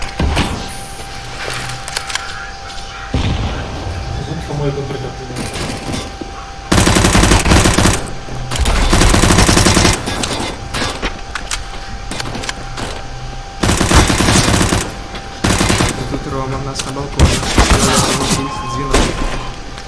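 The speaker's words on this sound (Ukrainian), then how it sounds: "Це наш снайпер. Попадає чітко в ціль." Gunfire in Counter-Strike: Global Offensive during a tournament final match, loud dense bursts of shots and impacts repeating throughout, with game effects filling the background and no clear talk over it.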